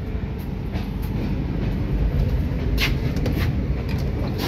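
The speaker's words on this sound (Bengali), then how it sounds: "ট্রেন ছেড়ে দিয়েছে।" Ekota Express passenger train pulling out from Kamalapur station on a rainy day, a loud continuous rumble of rolling wheels and carriages heard from inside, with faint rhythmic clatter and no talk.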